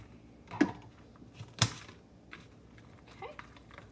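Two sharp knife chops through fajita vegetables against a cutting board, the first near 0.6 s and the second near 1.6 s, with fainter taps and kitchen handling sounds between them in a quiet room.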